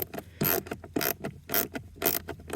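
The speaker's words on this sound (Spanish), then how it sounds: "para apretarlos, pues dales con una matraca" Hand ratchet tightening the mounting screws on a Toyota Sienna blower motor, giving five or six loud, close bursts of rapid clicking at a steady rhythm, separated by short pauses, with no talk.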